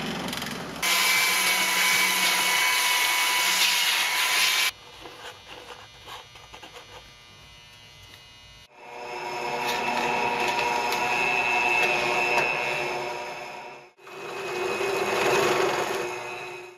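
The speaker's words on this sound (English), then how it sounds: "let me show you how the motor runs. I'm going to quickly turn it on." An electric motor on a homemade disc sander spins up with a loud, steady whine, stops, then runs again in two more long bursts, with quiet pauses between runs.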